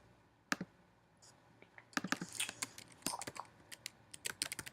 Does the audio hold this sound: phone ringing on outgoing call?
no